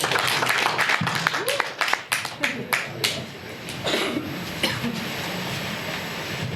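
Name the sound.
congregation applause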